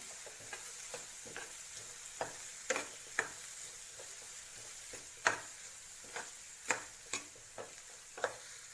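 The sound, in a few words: stirring spices with egg bhurji in pan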